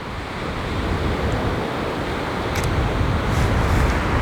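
Ocean waves breaking on rocks, a steady loud wash of surf with wind noise on the microphone, continuous and close, no voices.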